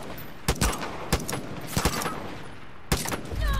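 Gunfire in the Far Cry 5 video game, with several sharp, irregular shots ringing out over a steady background of game noise and no talk.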